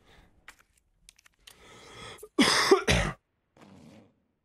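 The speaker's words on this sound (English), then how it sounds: "Like, where did this cough come from?" A person coughs hard twice in a quick close burst after some faint throat noises and clicks, then fades into a softer exhale in a quiet room.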